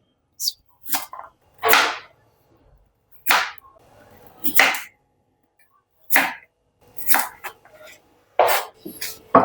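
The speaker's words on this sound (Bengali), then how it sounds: "ছিলে নিয়েছি, এভাবে এখন কেটে নেব আমি।" A knife cuts through peeled, soft young kohlrabi for an ilish fish recipe, giving a series of crisp, close chopping strokes spaced irregularly with short pauses, no talking.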